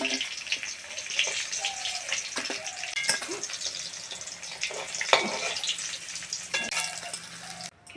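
Pieces of rohu fish, already fried, are lifted out of hot oil in a pan for a Bengali fish curry. A steady crackling sizzle runs throughout, broken by a few soft scrapes and clicks. No one speaks.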